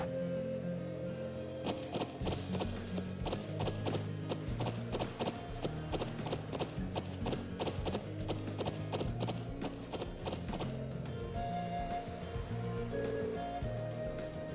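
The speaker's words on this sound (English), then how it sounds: "Horses? Are you saying we're to travel to the settlement on horseback?" Horses clip-clop in a rhythmic run of hoofbeats in the video game Trails of Cold Steel, with a neigh and background music, lasting several seconds.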